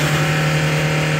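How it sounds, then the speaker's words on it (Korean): A car engine revs hard and steady with a held high-rpm drone, full throttle pressed down during an emissions smoke check at a vehicle inspection shop, loud and close with no talk. "매연 체크 한번 해볼 테니까 엑셀링 한번 해볼게요"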